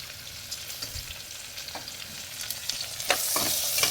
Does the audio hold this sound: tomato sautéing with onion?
yes